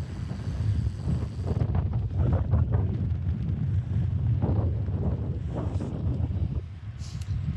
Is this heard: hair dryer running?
no